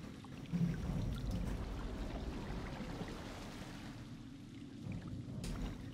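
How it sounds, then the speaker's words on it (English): Water splashing in the video game Until Dawn, a continuous low churning wash with a few heavier splashes, moderately loud and without talk. "Make some more splashes"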